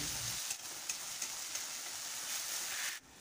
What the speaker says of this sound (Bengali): ওই পনির ভাজা তেলেই পেঁয়াজ, রসুন, আদার পেস্ট দিয়ে দিলাম। ভালো করে কষিয়ে নিচ্ছি।